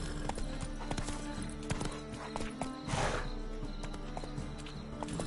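A horse gallops in the video game The Witcher 3, hooves clip-clopping in a fast steady rhythm over a dense game soundscape, with a brief whinny in the middle and no talking.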